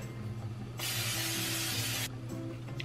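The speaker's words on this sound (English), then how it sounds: "Spraying the pan with this." A steady hiss of cooking spray on a hot pan for protein pancakes, lasting just over a second, close by, set against a low kitchen hum.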